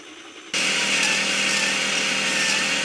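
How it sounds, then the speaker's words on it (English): An air grinder starts abruptly and runs at a steady high whine, loud and close, cutting through steel frame tubing on a Yamaha Blaster ATV, with no talking. "I started partnering up with my air grinder for final punch through"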